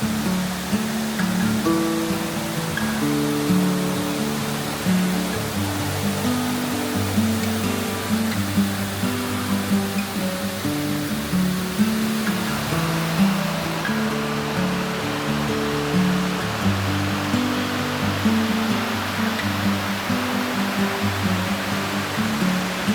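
A waterfall in a snowy landscape roars as a loud, steady wash of rushing water, a continuous broadband rumble that holds without pause for the whole stretch.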